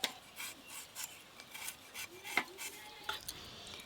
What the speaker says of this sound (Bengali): এবার পিস পিস করে কেটে নেব।